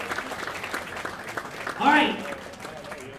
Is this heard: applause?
yes